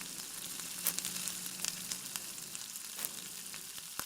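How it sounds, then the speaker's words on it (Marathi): Spices with turmeric, red chilli powder and garam masala sautéing for zunka on low heat, a faint, steady sizzle with soft stirring scrapes and a few light clicks. "थोडा गरम मसाला मसाला टाकल्यानंतर छान परतून घ्या कमी गॅसवरच शक्यतो मसाला परतून घ्यायचा आहे"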